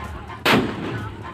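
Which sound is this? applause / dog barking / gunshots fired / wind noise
gunshots fired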